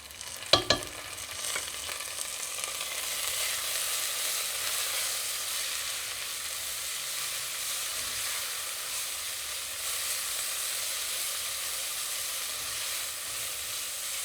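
Ginger and garlic fry with turmeric and chili powder, giving a steady, close, even sizzle that holds throughout after a couple of sharp clatters at the start.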